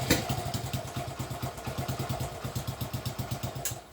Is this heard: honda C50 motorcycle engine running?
yes